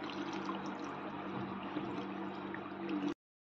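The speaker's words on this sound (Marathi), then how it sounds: "आता आपण यात 1 तांबे पाणी ओतून घेणार आहोत" Water pours steadily into a pot holding tamarind and jaggery for panha, a continuous close splashing fill lasting about three seconds before stopping abruptly, with no speech.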